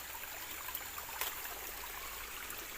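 A small stream runs around a tight S-shaped bend, its water splashing against the bank at the curve; a steady, soft, close rush of flowing water with faint trickles throughout and no talking.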